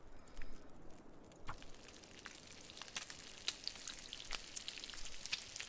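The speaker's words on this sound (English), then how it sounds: "Let's get that fish cooked up." A fish cooks over a fire in The Long Dark with a steady crackling sizzle, broken by soft pops and small snaps throughout and no talking.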